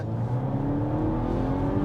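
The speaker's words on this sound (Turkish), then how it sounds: "Dip gaz yaptık abi." A Volvo S60 2.0 turbo all-wheel-drive car engine roars steadily at high revs under full-throttle acceleration, loud and close, with a continuous strained drone and no voices.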